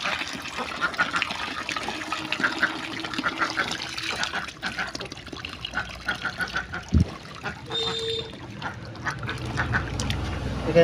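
Water streams steadily into a small backyard swimming pool for ducks, a continuous trickling fill, close and fairly loud, with a brief thump partway through and faint bird sounds and a voice underneath.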